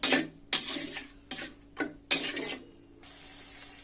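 Spices for potol posto being stirred and fried in oil in a pan, with bursts of scraping and sizzling in several strokes of a spatula, close and moderately loud, then a steady soft sizzle.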